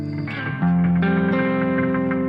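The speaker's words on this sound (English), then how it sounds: "that's now octaving what's being sliced" An electric guitar runs through a BOSS GT-1000 Core slicer effect into an octaver, sustained chords chopped into a pulsing, rhythmic stutter with a doubled low octave, loud and effect-heavy.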